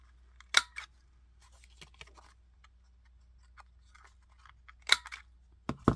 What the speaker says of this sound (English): Let's cut the corner of this.